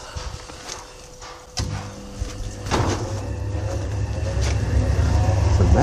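An air blower kicks in on a metal-melting furnace after a few knocks and clunks, its whirring hum building steadily louder and closer until the end.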